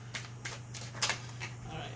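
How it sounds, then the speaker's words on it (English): Tarot cards riffled and shuffled in several brisk bursts, close by, over a steady low electrical hum. "So I'm going to shuffle and then I'll show you the cards."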